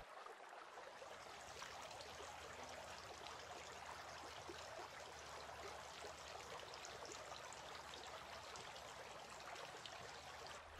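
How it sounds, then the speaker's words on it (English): Water pours in a steady, continuous trickle during ablution while the mouth is rinsed, a soft stream with no voices. "He then rinsed his mouth 3 times."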